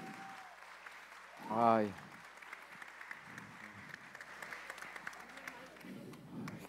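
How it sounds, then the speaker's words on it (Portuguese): Audience applause at a hypnosis show rises faintly as a scattered patter after a loud short vocal exclamation, with people talking over the clapping and the room chatter continuing. "Uma salva de palmas para o nosso garçom"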